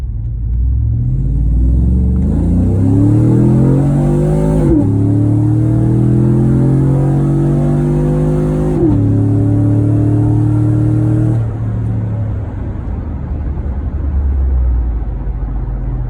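A car with a 6L80 automatic transmission accelerates at wide open throttle. The engine drone rises and then drops sharply at each of several upshifts, loud and sustained throughout, with no talking.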